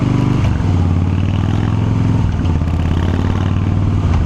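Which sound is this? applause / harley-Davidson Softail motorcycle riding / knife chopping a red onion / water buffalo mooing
harley-Davidson Softail motorcycle riding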